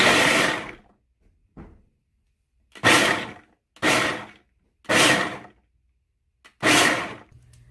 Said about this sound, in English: You just want to kind of pulse it until it gets to the consistency you desire.